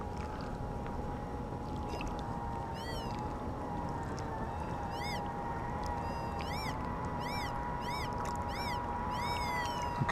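Whites TDI Beachhunter pulse-induction metal detector sweeping a beach, giving a run of rising warbling tones over a steady hum and background surf or wind, the signals clustering into repeated deep-target chirps.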